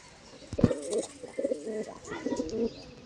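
A male pigeon coos close by in several low, throaty, rolling phrases separated by short pauses, with faint background noise.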